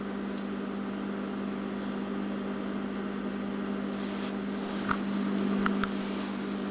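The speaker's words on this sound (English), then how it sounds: "What you're hearing is my refrigerator over here." A steady, faint electrical hum from a refrigerator runs beneath a low background hiss, with a few small clicks near the end.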